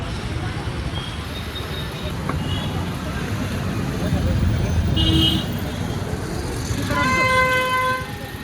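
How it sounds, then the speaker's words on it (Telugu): Heavy city street traffic near Tank Bund in Hyderabad during the Khairatabad Ganesh festival, with a steady roadway rumble and several car horns honking, a longer multi-tone horn blast near the end, and voices talking over it. "ఫుల్ ట్రాఫిక్ ఉంది"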